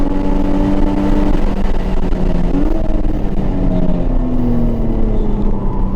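An engine-swapped Nissan 350Z with a JDM motor roars around a track, loud and close, its engine tone rising and falling through shifts beneath heavy wind and road noise.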